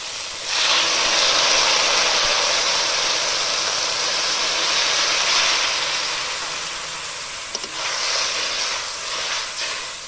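Water poured into a pan of curry with taro stolons on a village clay stove, making a steady loud sizzling hiss that rises sharply, holds for several seconds, then eases slightly with a few brief clinks.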